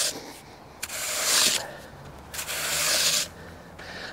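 Sand being raked in a hard-packed golf practice bunker, two long scraping sweeps with a brief pause between them, close and fairly loud with no talking.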